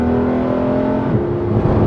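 A Gulf Blue Porsche 911 GT3 RS engine holds a loud, close, steady rev with a rich droning tone, rising slightly near the end.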